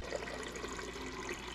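Filtered drinking water poured from a home filter dispenser into a glass, a steady soft trickle running for the whole short moment, close and fairly quiet.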